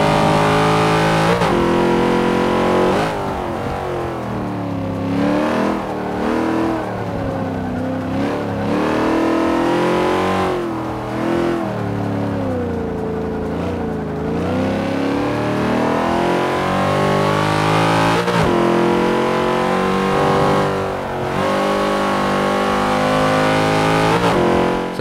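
Car engine in Forza Motorsport 5 roars continuously and loudly for the whole stretch, revving up and down through gear changes on a racing lap with cold tyres, with no talking over it.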